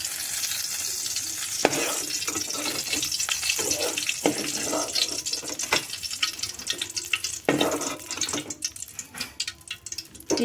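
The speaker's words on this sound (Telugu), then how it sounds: "అదే నూనెలో గోంగూర వేసుకున్నాను" Gongura leaves fry in hot oil for gongura pickle: a continuous close sizzle with frequent stirring scrapes and clinks, and bursts of louder spattering throughout.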